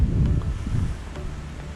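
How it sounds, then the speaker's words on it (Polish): Strong wind gusting behind an angler feeder fishing at a sheltered bank of calm water, heard as a constant low, buffeting roar right on the microphone with no voices. "mimo sporego wiatru, który za plecami naprawdę szaleje"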